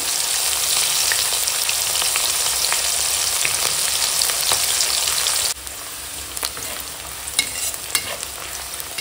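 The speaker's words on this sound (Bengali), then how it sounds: "পেঁয়াজের সঙ্গে কাঁচা লঙ্কা এরকম হালকা ভাজা হয়ে গেছে।" Onions and green chillies sizzle and crackle in a hot pan, a steady frying hiss with occasional pops, close up, briefly quieter near the end.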